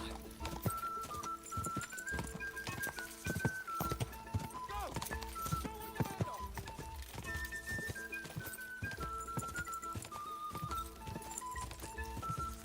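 Rhythmic hoofbeats of galloping horses in Kingdom Come: Deliverance II clatter over game music with a melodic line, and a voice speaks over it at moderate volume.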